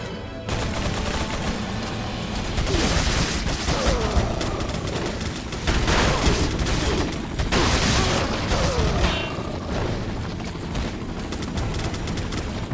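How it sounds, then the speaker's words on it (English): Gunfire in the video game Resident Evil 4: dense, continuous bursts of shots and mechanical clatter, loud and sustained throughout with no gaps. "Okay, Big Man John, you are a terrible shot."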